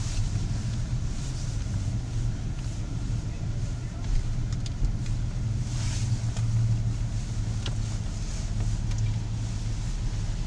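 A car rolls slowly through a Burger King drive-thru lane, its engine a steady low rumble throughout, with occasional faint clicks and muffled talking inside the vehicle.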